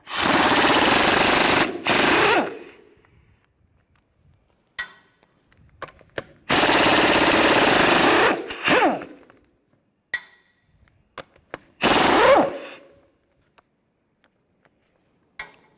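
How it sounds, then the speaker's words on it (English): An impact wrench with a 17mm socket hammers out the wheel lug bolts on a 2007-2013 Mini Cooper in three loud, rapid rattling bursts of about two seconds each, separated by quiet pauses with small clinks of metal parts. "Use a 17mm socket. Take these lug bolts out."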